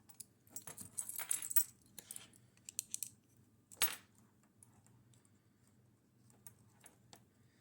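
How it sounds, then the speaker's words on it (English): A set of keys handled and jangled in the hand to serve as a pry bar, giving scattered close metallic clinks and taps in uneven bursts, with a brighter rattle near the start and quieter ticks trailing off. "Had to go grab my keys for the pry bar."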